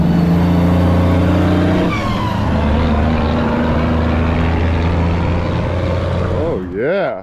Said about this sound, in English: Trucks on this road. It's sketchy.